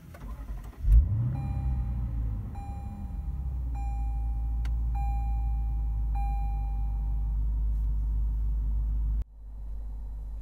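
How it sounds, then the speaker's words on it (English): A 2018 Lexus GS-F engine cranks and catches with a loud flare, then settles into a steady deep idle hum for several seconds before cutting off abruptly. "you're gonna put your foot on the brake and you're gonna push that button right there to start"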